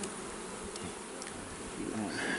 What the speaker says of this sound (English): Yeah, look how bad the bees.